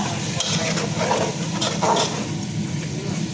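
Food frying in a pan on a home stove, a steady broadband sizzle with occasional stirring scrapes, close and continuous with no talk.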